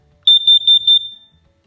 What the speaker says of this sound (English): Now we're going to push this test button, and not only will this unit beep, but all the other units